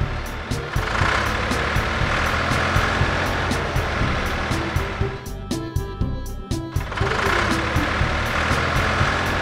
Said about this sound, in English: Sprayer Tractor.